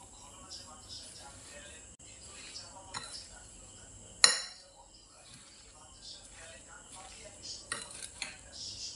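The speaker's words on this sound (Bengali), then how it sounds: "চিনি আর লবণ দিয়ে আমগুলোকে ভালোভাবে মিশিয়ে নিচ্ছি।" Raw mango pieces are mixed with sugar and salt in a bowl, heard as soft, intermittent scraping and clinking of a spoon against the dish with one sharp clink, under a quiet voice.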